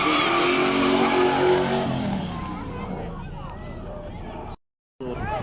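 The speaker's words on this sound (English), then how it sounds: "Keeping with the V8 engine, this one a 5-litre V8, 300 horsepower, for about 160 miles an hour" A TVR sports car with a 5-litre 300-horsepower V8 roars past on a demonstration run at a supercar weekend, loud and close before fading into the distance, with someone commentating over it.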